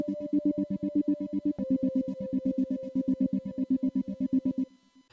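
Sustained synth drone from the Pigments synthesizer with a rapidly pulsing, tremolo-like rhythm, a high ringing bell sample marking each change of the upper notes; a steady held tone shifts pitch once partway through before the pulse continues alone.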